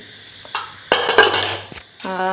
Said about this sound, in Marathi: तर हे कुकरचं झाकण मी काढते